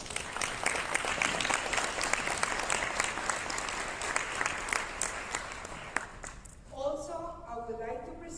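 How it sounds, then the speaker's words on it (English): An audience at a Department of Homeland Security guest speaker session at a conference claps in a dense, sustained round of applause that fades after about six seconds, then a voice begins speaking. "Let's give a round of applause."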